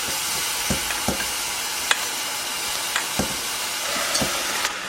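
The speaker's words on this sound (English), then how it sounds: "Now we just mix it up until everything melts." Cauliflower, cream cheese and other cheese stirred together in a pan for keto mac and cheese: a steady soft sizzle with irregular scraping knocks of the spoon against the pan, close and alone.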